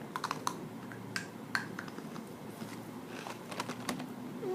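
Crunchy oven-dried crispy strawberry is bitten and chewed close to the mic, a run of small crisp crackles and snaps over quiet background noise, with no talk.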